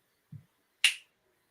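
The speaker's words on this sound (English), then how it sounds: "I do the same thing, just a simple snap command for my dog" A single sharp finger snap given as a command to a dog rings out alone and close in a quiet room, preceded by a soft low thump.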